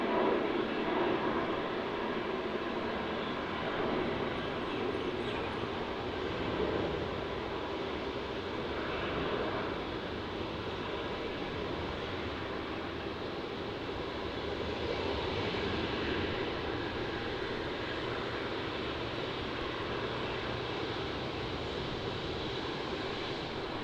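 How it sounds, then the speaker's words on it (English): A Jetstar Airbus A320 rotates early and climbs away from Melbourne Airport, bound for Launceston, its broad steady engine roar holding at moderate distance for the whole stretch with faint wind in the background. "we have the Jetstar Airbus A320 departure off to Launceston, going down south to Tasmania"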